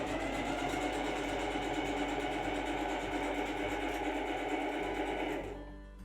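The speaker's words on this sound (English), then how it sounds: "we will sew the straight stitch the two diamond pieces together" A sewing machine sews a straight stitch joining two diamond-shaped fabric pieces for a headband, running loud and continuous at a steady speed before winding down and stopping at the end.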